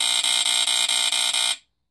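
A Statitrol SmokeGard 907B2 smoke detector sounds its alarm during a test as a loud, shrill, close tone pulsing in a fast, even rhythm for about a second and a half before it cuts off abruptly.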